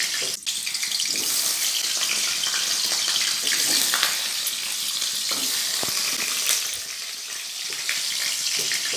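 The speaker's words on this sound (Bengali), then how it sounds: "এবার আলুগুলো কড়াতে একটা একটা করে ছেড়ে দেবো।" Potato pieces sizzle and spit in hot oil in a wok, a steady close crackling hiss that runs throughout with a few sharper pops and no voices.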